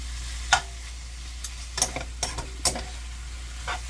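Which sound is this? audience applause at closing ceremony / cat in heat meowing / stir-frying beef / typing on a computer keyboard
stir-frying beef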